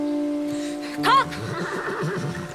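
A horse gives one loud, shrill, quavering neigh about a second in, close by, set against a steady tonal background hum.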